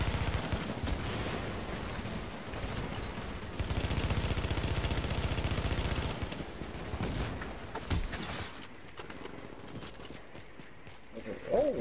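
Bursts of gunfire from The Division, rapid shots under a player's voice, loud at first and thinning toward the end.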